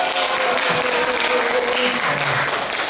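Audience applause at a Bible recitation contest, a loud, sustained crowd of clapping hands filling the whole stretch, close and even, with faint murmurs and a brief tone in the background.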